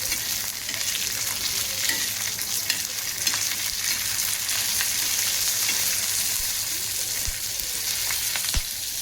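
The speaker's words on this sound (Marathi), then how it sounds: "आपण सुरुवातीला मिरच्या आणि धने भाजून घेतो." Chillies and coriander seeds roasting in a hot pan for an aubergine dish, giving a steady close sizzle and crackle with a few small pops near the end, continuous and without speech.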